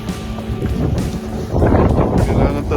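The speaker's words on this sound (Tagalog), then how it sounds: "malakas yung hangin sa snowstorm" Strong snowstorm wind buffets close by, a loud, rough roar with gusty surges and heavy rumbling on the microphone, growing stronger toward the end.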